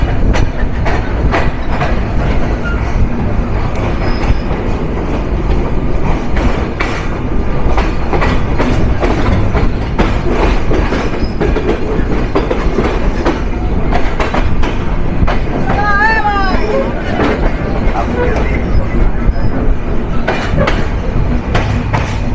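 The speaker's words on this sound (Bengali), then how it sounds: "অবশেষে 5 মিনিট যাত্রা বিরতি সম্পূর্ণ করে ছেড়ে যাচ্ছি ঢাকার দ্বিতীয় ব্যস্ততম বিমানবন্দর স্টেশন।" SilkCity Express intercity train pulling away from Dhaka's Airport station in Bangladesh, with a steady loud rumble and rhythmic clickety-clack of wheels on rails throughout, plus brief wheel squeals midway.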